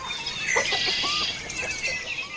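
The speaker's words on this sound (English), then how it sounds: "inviting you to tag along with one of their organic, pasture-raised hens as she heads out for her day in the pasture" Organic pasture-raised hen clucking softly in short repeated calls as she heads out into an open pasture, with faint outdoor ambience and no talking.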